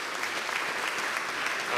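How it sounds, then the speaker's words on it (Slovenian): An audience claps for a guest at an evening talk event, dense sustained applause filling the room with no voices above it. "aplavz našemu gostu."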